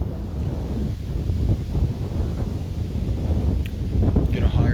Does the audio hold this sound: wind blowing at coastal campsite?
yes